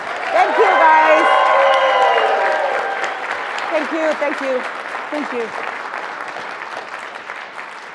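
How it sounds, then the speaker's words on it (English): Audience applause and some cheering after a speaker at a corporate presentation, loud at first then fading over several seconds while someone speaks over it. "Let's give a round of applause."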